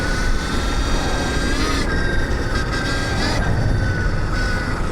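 Stark Varg EX 80HP electric motorcycle on the road in mode 5, a loud continuous motor whine and rushing wind as the throttle is twisted, with shifting tonal pitch.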